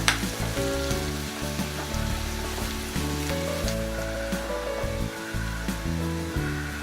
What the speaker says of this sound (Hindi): पियाज रंग बदलवा पर्यंत आम आपको फ्राई करवा